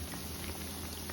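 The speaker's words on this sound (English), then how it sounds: "plantain cheese balls are already deep frying." Plantain cheese balls deep frying in hot oil, giving a steady, close bubbling hiss with soft crackles throughout, no talking.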